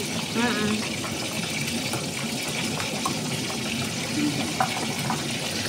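Milk pours steadily into a chicken Alfredo pasta sauce, a continuous liquid gush and splash running throughout, with a voice speaking over it.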